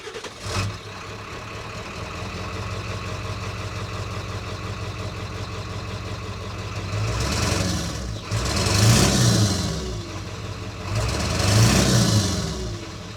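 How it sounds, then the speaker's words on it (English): A 1990s-style OBS Ford 7.3 Powerstroke diesel pickup fitted with an MBRP exhaust cranks over and settles into a steady idle, then gives a few loud, close revs that swell and fall back, with no talking. "I'll set you up here while I start up the truck. You can have a little bit of a, I guess, a sound check"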